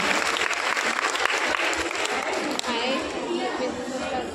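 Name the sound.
audience applause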